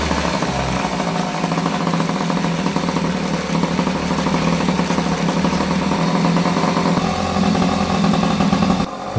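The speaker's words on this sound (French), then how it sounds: "Vous pouvez démarrer votre moteur." A small MBK Motobecane moped engine, fitted with an MVT Millenium electronic ignition, runs steadily at idle after starting, a continuous close buzzing putter throughout with a slight change in tone near the end.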